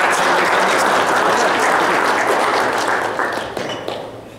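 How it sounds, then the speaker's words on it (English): Seminar audience applauding a guest presenter, a dense sustained wash of many hands clapping at close range that tapers off toward the end. "Give him a clap."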